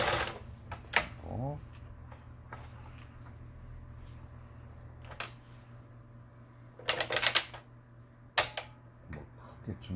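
A household sewing machine stitches with a somewhat clunky sound, running a triple stitch with a low steady motor drone and bursts of clattering needle action, while someone talks over it.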